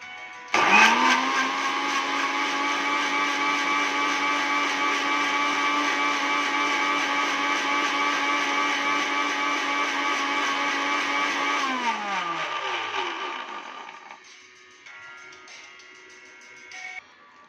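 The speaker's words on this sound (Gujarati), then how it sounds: "એને આપણે મિક્સરમાં પીસીશું" A kitchen mixer grinder blends aloe vera and mint with a glass of water, a loud steady motor whine lasting about twelve seconds before winding down and stopping, followed by faint rattling.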